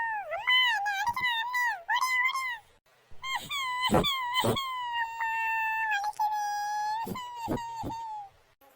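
A child wails and cries loudly at home during a squabble over a TV remote, long rising and falling sobbing tones broken by sharp gasps and catches of breath.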